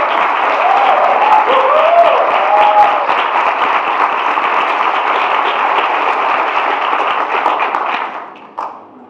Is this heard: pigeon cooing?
no